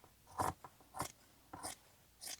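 Scissors make four crisp, separate snips through quilted fabric, close and fairly quiet with short pauses between cuts.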